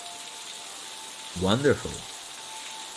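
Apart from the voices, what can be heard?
rain falling, from the video game Necrobarista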